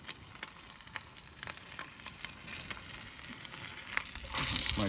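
Freshly caught whiting frying in well-used canola oil at a creekside camp on K'gari, a soft, steady crackle and sizzle with scattered pops that grows slightly louder toward the end.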